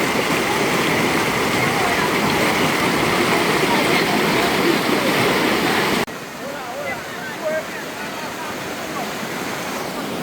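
Water pours steadily at Cherry Hill Falls, a loud, dense, continuous roar of rushing water that drops somewhat in level partway through and carries on with small splashes.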